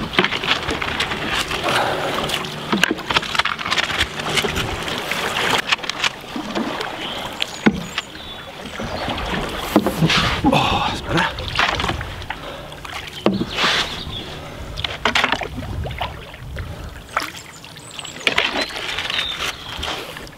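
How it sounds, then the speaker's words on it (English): A cedar strip canoe is paddled and punted through a shallow, fast-moving river. Close paddle strokes splash and knock irregularly over rushing water, with occasional thuds against the hull. "the river's got very shallow and quite fast moving. It's a little bit of a battle actually. I'm kind of having to more punt and paddle."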